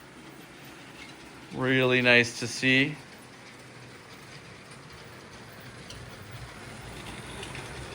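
A LEGO Maersk train pulling a string of cars runs around a tabletop layout, a soft steady rattling rumble that continues throughout, with someone speaking briefly near the start.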